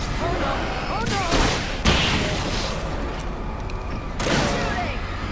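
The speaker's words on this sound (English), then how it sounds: "Shooting!" Gunfire in Alan Wake Remastered, a few loud sharp shots and bursts in a tense game scene, with a voice crying out between them.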